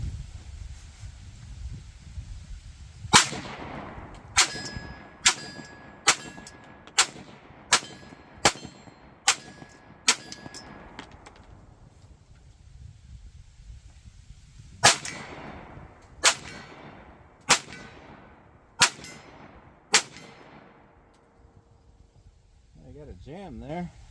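A Ruger 57 pistol firing 5.7x28 rounds at a steel half-scale silhouette: two strings of sharp shots, each followed by a ringing metallic clang from the target, with a voice speaking between strings.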